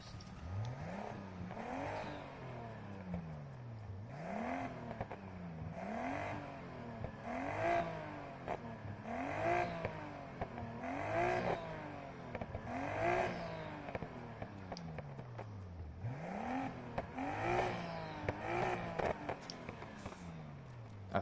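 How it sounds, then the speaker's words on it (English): Car exhaust modified to sound beefier, revved over and over in a regular rhythm of rising and falling swells, each rev climbing then dropping back, heard fairly quietly with no one talking. "I could sit here all day playing with the exhaust"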